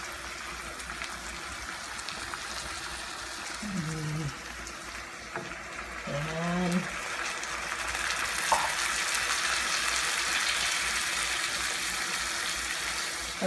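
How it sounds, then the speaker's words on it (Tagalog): Water goes into a pot of sautéed chicken for chicken sopas, and a steady sizzling hiss swells and carries on close by. A voice speaks briefly near the start. "Pagkatapos po, lagyan po natin ng konting tubig."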